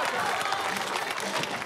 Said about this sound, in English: Keep your applause going for our Kiwi boy